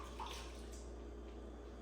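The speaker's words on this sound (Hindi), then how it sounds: "अभी छेने को हम ठंडे पानी के साथ धोएंगे, जिससे इसका नींबू निकल जाएगा" Faint running water while freshly made chhena cottage cheese is rinsed with cold water in a kitchen to wash out lemon juice, a soft steady splash over low hum.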